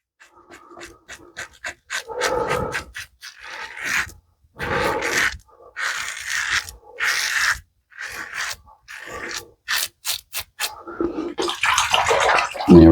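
Running tap water rinses a single-edge Leaf Twig Thorn razor during a shave, heard as repeated bursts of splashing and gushing water under the stream, interrupted by short pauses, close and moderately loud.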